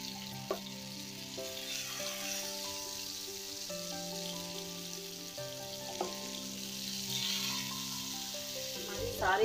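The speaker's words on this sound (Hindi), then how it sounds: "सारी मछलियाँ तवे पे जा चुकी हैं, अब इसको धीमी आंच पे इसको फ्राई करेंगे।" Fish pieces fry on a hot tawa for a fish fry, giving a steady, close sizzle throughout with occasional soft clinks and stirring noises, while background music plays softly underneath.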